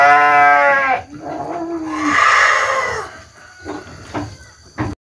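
Sheep in a pen at feeding time bleat loudly and close by, a long wavering call followed by further bleats and shuffling, with no people talking.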